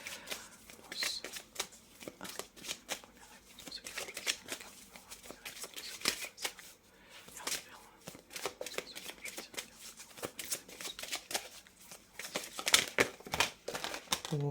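Tarot cards being shuffled repeatedly by hand, a dry riffling and flicking patter that runs throughout in quiet, uneven bursts close to the listener.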